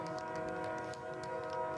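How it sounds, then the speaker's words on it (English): Train passing near a varsity soccer game sounds a steady sustained horn with several held tones over a continuous rumble, distant and faint, with no talk. "if that's a train that's passing"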